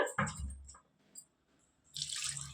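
Water splashes into a pot of mutton gravy curry in two short pours separated by a quiet gap, close and moderately loud.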